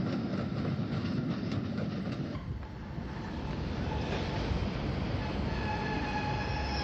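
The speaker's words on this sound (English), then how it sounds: "An electric multiple unit arrives from Hayward's Heath." An electric multiple unit train arrives from Hayward's Heath, heard as a loud, continuous rumble and rolling rail noise. It eases slightly midway, then resumes with faint squealing tones late on, and no voices are heard.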